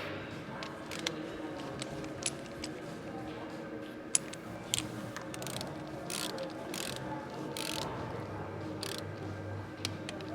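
A torque wrench tightens engine cam bolts on a Screamin' Eagle 131 motor, giving quiet, close ratcheting clicks in an irregular series over a low background hum.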